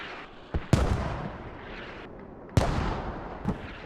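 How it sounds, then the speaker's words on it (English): Mortar rounds striking near a radio in a multiplayer infantry war video game: two sharp, loud impact bangs followed by rumbling, debris-like noise, with a smaller thud near the end, no voices. "They're trying to mortar our radio that we put down in C3."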